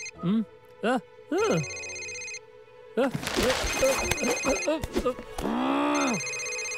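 A phone rings in a library with repeated electronic chirping tones while voices talk over it, close and fairly loud.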